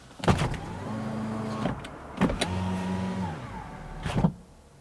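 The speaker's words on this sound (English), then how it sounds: "just listen to the window winding noise" Power window motor on a Lexus NX350h hybrid SUV, winding the glass in two smooth, quiet runs of steady electric whirring, each closed by a soft thump and a brief click, heard close up inside the cabin.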